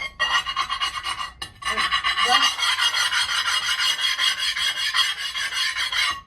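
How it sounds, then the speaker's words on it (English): Harsh, continuous scraping rasp of a hard blade dragging glass residue off a ceramic kiln shelf, close and loud, with one brief pause early on. "although I don't want to do it over the kiln, you just scrape it."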